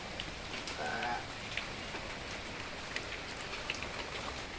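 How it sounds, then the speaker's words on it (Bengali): Light rain falling outdoors, a continuous soft patter of drops on surfaces with a few brighter drips standing out, steady and moderately close. "আর বৃষ্টি ঝরঝর ঝরঝর করে পড়ছে"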